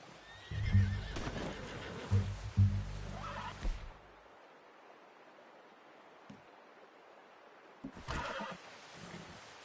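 A horse in a PlayStation 4 video game whinnies loudly up close with shaking hoof clops, falls quiet, then stirs again near the end with another burst of movement.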